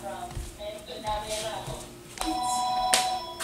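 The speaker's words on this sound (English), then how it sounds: "that's the phone ringing." Telephone ringing indoors, a steady electronic tone sounding in the background while voices talk over it with tense, overlapping speech.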